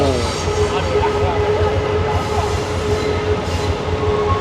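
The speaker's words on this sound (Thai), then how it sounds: "ยิ่งรถไฟมาพร้อมกันแบบนี้ รถไฟก็ถือว่าเยอะมากๆนะครับ" Trains rumbling past nearby on tracks in Thailand with a loud, steady roar, a high metallic wheel squeal running through it.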